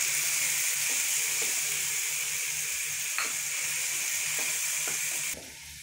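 Onion and tomato paste masala frying in a pan, a steady close sizzle with a few soft stirring knocks, ending abruptly in a brighter hiss; no voices.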